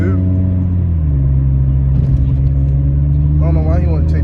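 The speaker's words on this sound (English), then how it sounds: "POV Honda Civic." A Honda Civic drives along with a loud, steady engine drone and road rumble close in the cabin, the engine note rising and wavering near the end, no talk heard.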